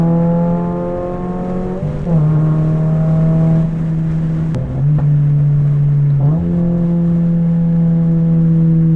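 A Subaru BRZ / Toyota GR86 with a manual gearbox drives at a steady cruise, its engine holding a smooth, loud drone from inside the cabin, with a couple of brief dips and rises in pitch as the throttle shifts.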